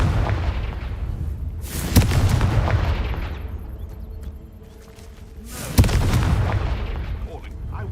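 A Confringo fire spell in Hogwarts Legacy bursts with two loud booming explosions a few seconds apart, each trailing off into a rumbling roar over a steady background of game ambience.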